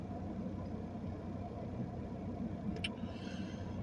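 A car sitting in early-evening traffic around sunset, its engine idling as a steady, close low rumble throughout, with a brief faint higher sound near the end.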